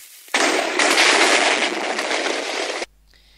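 A loud, sustained burst of explosive crackling and blasting in the game Minecraft that runs continuously for a couple of seconds, then cuts off abruptly into near silence.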